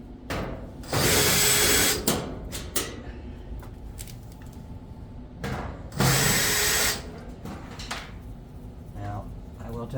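Power drill backing screws out of the rear panel of a clothes dryer during maintenance, two loud whirring bursts of about a second each with clicks and handling noise between them.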